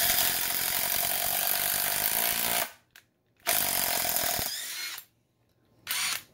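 A DeWalt Xtreme 12V brushless 3/8-inch sub-compact impact wrench runs freely in two loud bursts, its gearbox whirring and buzzing steadily, with brief silences between and a short blip.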